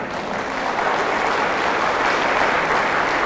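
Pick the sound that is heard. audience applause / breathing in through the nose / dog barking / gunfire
audience applause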